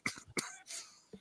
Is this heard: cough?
yes